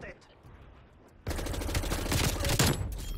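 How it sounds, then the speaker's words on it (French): A Fara 83 rifle fires in Black Ops Cold War: quiet background and voice first, then a sudden sustained burst of rapid, loud gunfire that runs to the end of the clip. "Et ouais, forcément, je commence à tirer le mec."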